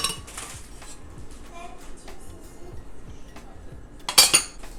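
Cooked apples for apple butter are moved into a blender, with soft knocks and scrapes of a utensil against a pot, then a brighter clatter of metal and dishes near the end.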